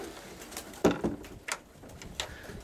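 Young roller pigeons give a few soft, brief coos against a quiet, hissy outdoor background, with a couple of faint knocks in between.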